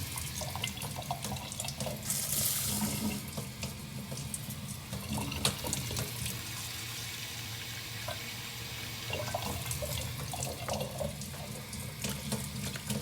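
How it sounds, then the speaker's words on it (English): Tap water runs steadily into a measuring cup holding a cup of rice, a continuous close splashing stream with small shifts in pitch as the cup fills, with no talking. "I'm gonna add about 2 cups of water here"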